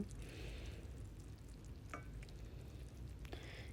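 Butter sizzles steadily in a hot pan as noodles fry, a continuous close crackle with a few stirring scrapes and clinks scattered through it.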